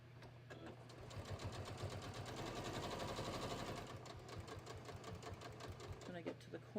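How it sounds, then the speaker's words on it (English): A sewing machine stitches fabric for a snap fidget mat, its needle hammering in a fast steady rhythm close by, easing and restarting briefly near the end. "So now I'm just gonna sew this."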